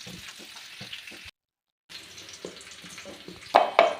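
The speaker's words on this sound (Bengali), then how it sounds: "এবারে নেড়ে চেড়ে আলুগুলো ভাজা হতে থাক" Small potatoes frying in a pan with salt and turmeric, a soft continuous sizzle with light scraping as they are stirred, broken by a short silent gap and ending in two sharper clattering bursts.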